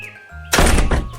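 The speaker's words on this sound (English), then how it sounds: "closed his door with a bang" A wooden house door swings shut with a loud, close bang, a single heavy thunk that trails off after a brief quiet lead-in.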